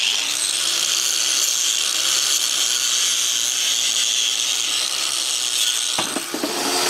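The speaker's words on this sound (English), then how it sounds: "I have a grinder for wire wheel" Bench grinder with a wire wheel cleaning a Mosquito Magnet part makes a loud, continuous bright whirring hiss that holds steady throughout, with a brief knock and scrape near the end.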